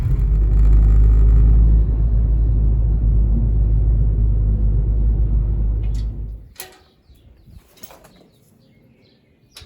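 A car rumbles loudly and steadily while turning around on a narrow street, the engine and road drone filling the first six seconds before cutting off, leaving quiet with a few faint clicks and knocks.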